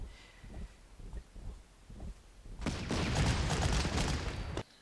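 Artillery gunfire in the Panzer Corps wartime strategy game: a few scattered muffled thumps at first, then a dense, continuous rumbling barrage of rapid shots that cuts off abruptly.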